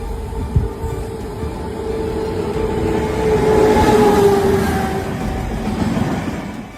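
The Godavari Express passenger train, number 12727, rumbles past with a steady loud roar and a faint metallic wheel whine that swells in the middle and then eases, with no voices over it.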